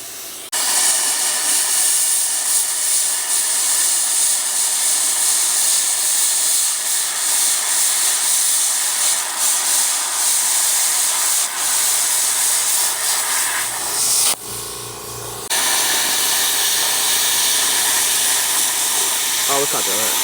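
An Arccaptain Cut 55MP plasma cutter slicing through metal gives a steady loud roaring hiss of the arc and air flow, broken by a short pause and shift partway, with a person speaking over it.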